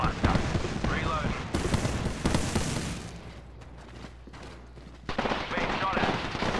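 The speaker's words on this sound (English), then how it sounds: "Being shot at." Gunfire in the Apex Legends video game comes in bursts of rapid shots and impacts, loud at first, dropping to a quieter stretch before another burst, with a player talking over it.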